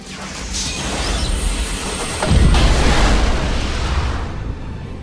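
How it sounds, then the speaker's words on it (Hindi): A large oxygen tank blast inside the Apollo 13 spacecraft booms out as a heavy low rumble over a roaring background, swelling midway into a sustained thunderous roar that slowly fades. "स्पेसक्राफ्ट के अंदर काफी बड़ा धमाका होता है"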